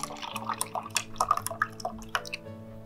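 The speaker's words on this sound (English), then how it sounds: "I'm using the side of my pitcher to pour the drink in." Cucumber mint yogurt drink pours from the side of a pitcher into a chilled glass, close and quiet, with small liquid splashes and trickles over a faint background hum.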